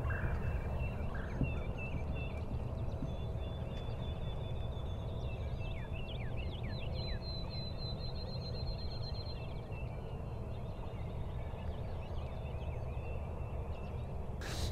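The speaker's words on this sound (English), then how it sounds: "the other bird came up behind him gobbling and strutting" Wild turkey gobbling outdoors during a hunt, a second tom approaching while strutting; several rolling gobbles sound at mid-distance over steady background ambience, with no talking.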